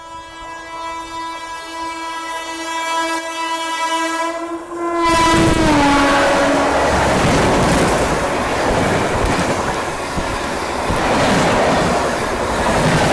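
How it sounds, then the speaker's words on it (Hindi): The Howrah Chennai Mail sounds a long, loud, steady horn blast, then roars past at close range with dense rumbling and clattering wheel noise that continues to the end. "जो हावड़ा चेन्नई मेल है ना वो मेरे ख्याल से ओवरटेक करने वाली है अभी"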